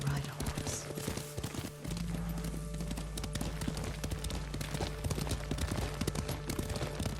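Horse hooves clop in a steady, rapid rhythm while riding in Ghost of Tsushima, a continuous galloping patter that stays prominent from start to finish over a low background drone.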